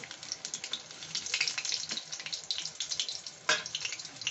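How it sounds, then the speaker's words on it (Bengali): Hot oil spits and splutters in a pan while fish-oil fritters fry, a steady crackling hiss with sharp pops and one louder burst near the end, heard close with no talking. "তেলটা ফোটে, সেই জন্য একটু সরে এলাম।"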